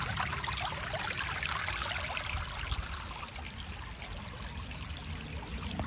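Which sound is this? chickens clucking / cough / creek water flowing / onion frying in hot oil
creek water flowing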